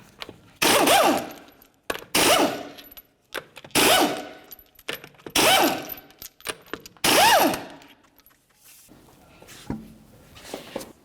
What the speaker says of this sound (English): continue on by removing all 5 of your 21mm lug nuts.